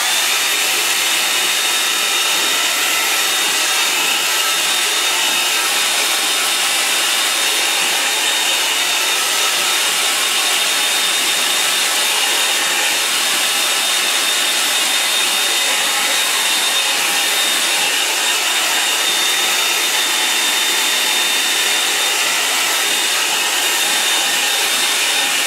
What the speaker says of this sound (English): I am now going to use the hairdryer.